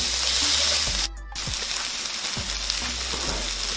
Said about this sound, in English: Cook our onions until slightly translucent and soft. Just mix them in there with all your garlic and chili paste.